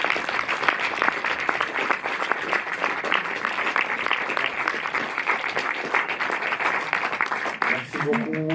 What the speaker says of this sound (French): Je pense qu'on peut encore applaudir.